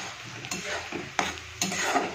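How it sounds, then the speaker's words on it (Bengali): Onions fry in a pan, a steady close sizzle broken by several sharp scrapes and clatters as they are stirred, with no talking. "তার জন্য একবারে পেঁয়াজটা ভেজে নিচ্ছি"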